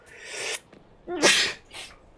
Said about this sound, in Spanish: Estornudo.